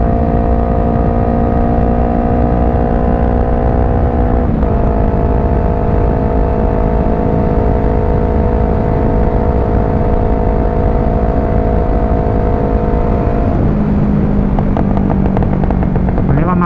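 A Yamaha YZF-R3 motorcycle cruises along an open road, its engine droning loud and steady from start to finish, the pitch dipping briefly as it shifts gears, with a constant wind rush over it.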